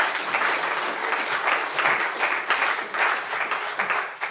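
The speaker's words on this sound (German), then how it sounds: "Applaus." Sustained audience applause after a lecture on the future of basic income, a steady dense wash of many hands clapping that holds evenly throughout, with no speech over it.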